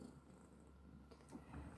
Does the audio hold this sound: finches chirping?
no